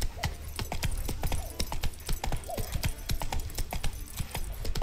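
Roach, Geralt's horse in The Witcher 3, gallops at a steady pace, hooves clopping in a quick, even rhythm close by over low ambient game sound, with no talking.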